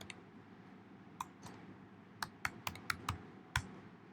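Keys tapped on a Mac computer keyboard in short, irregular clusters of crisp clicks, close and fairly quiet against a faint room hum.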